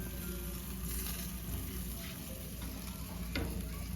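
Chicken barbecue sizzles and crackles steadily on a grill, a dense continuous frying hiss close up, with no talking.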